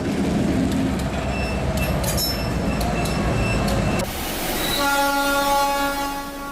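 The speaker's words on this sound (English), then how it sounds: "This locomotive is fighting for grip as its massive steel wheels slip on the rails" Steam locomotive losing traction as its massive steel wheels slip on the rails, a loud rumbling churn that gives way to a sustained, tonal horn-like squeal, with no talking.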